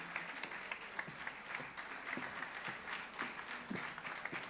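Audience applause at an International Women's Day evening of words and music, a steady dense clapping from a crowd that carries on throughout without voices.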